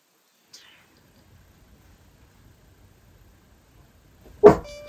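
A dog barks once, loud and close, inside a quiet room, coming suddenly after a long near-silent stretch with only faint rustles.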